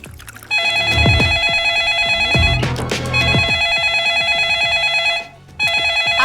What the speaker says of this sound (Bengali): আবার ফোন দেয় কিডা?